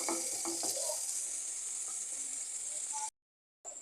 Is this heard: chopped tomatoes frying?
yes